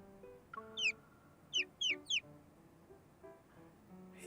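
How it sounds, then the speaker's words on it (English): A bird whistle blown in a moonlit forest in the game Love and Deepspace gives four short, bright, chirping notes, one alone and then a quick cluster of three, over soft background tones. "He blows the bird whistle and the crisp sounds travel through the forest."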